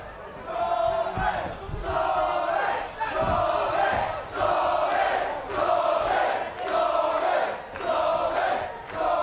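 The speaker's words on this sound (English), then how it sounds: "Crowd enjoying it." Boxing crowd at a main event chanting in rhythmic waves as a fighter makes his ring entrance, loud repeated swells of voices with short dips between them, roughly every second or so.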